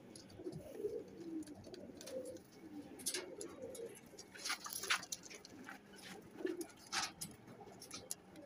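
A golden male pigeon coos softly in a loft, low repeated coos mixed with faint bird calls and rustling, fairly quiet and without talk.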